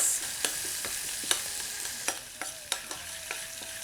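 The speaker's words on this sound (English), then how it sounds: "Give that a quick mix." Grated ginger sizzles steadily in a hot pan for tadka dal while a utensil stirs it, giving a constant frying hiss punctuated by several sharp taps and scrapes against the pan, with no talking.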